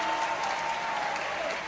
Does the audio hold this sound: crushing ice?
no